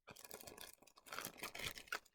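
A plastic bag from an American Girl Airlines food cart toy set is opened up close, giving bursts of crinkling and tearing over about two seconds with brief pauses between them.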